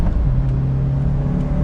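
A Mitsubishi Lancer Evo X manual sedan accelerates, its engine a loud, steady drone heard from inside the car, holding an even pitch throughout.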